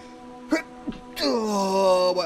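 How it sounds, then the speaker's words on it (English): A man close to the mic sneezes. Two sharp catching breaths come first, then a forceful burst that trails into a long, voiced, moaning exhale. "I'm going to sneeze, by the way."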